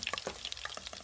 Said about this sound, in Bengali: পনির আমার লাল লাল করে ভাজা হয়ে গিয়েছে